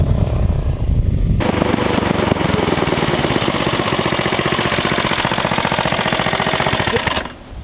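A turbocharged EFI go kart engine running hard while driving, a loud, rapid, rough pulsing roar with turbo spool that starts abruptly after a brief quieter moment and cuts off at the very end.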